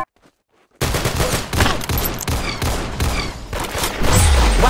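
Rapid gunfire in the Roblox shooter game Arsenal, opening on a brief near-silence and then dense bursts of shots cracking in quick succession, loud and continuous to the end with a deeper boom at the finish, no talking.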